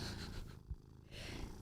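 A kitty purrs softly up close in one short stretch, a low, steady rumble with a faint breathy pulse and no voices over it.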